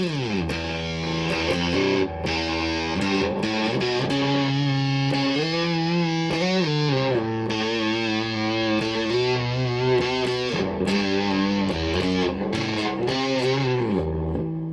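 Heavily distorted electric guitar played through a fuzz pedal, with a buzzy, saturated fuzz tone playing sustained chords and melodic lines, loud and continuous without any voices.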